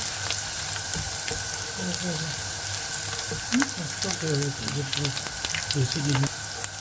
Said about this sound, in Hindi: थोड़ा सा ब्राउन हो जाए तो हमें इसमें साग डाल देना है।